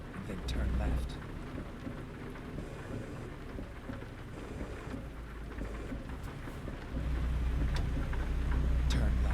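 Heavy rain and rolling thunder fill a storm in American Truck Simulator, a steady loud downpour with deep rumbles swelling near the start and again toward the end, and a voice speaking faintly under it.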